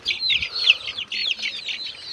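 Young chicks hatched in an incubator cheep and peep continuously, a dense chorus of high chirps close by with steady overlapping calls and no talking.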